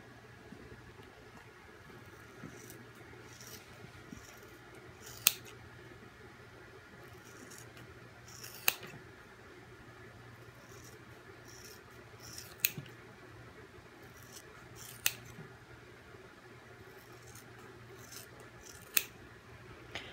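Scissors snip through fabric just outside the stitch lines of an in-the-hoop embroidered fidget spinner case. Crisp, close cuts land every couple of seconds over a faint steady hum, with no talking.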